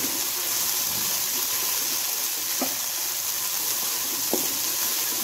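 Onions sizzling in oil in a pot on a lit flame while beef paya is being cooked. A steady, even hiss of frying carries through, with a couple of faint clicks.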